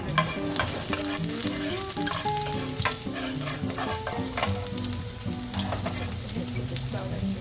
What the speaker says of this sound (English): Put the garlic down here first.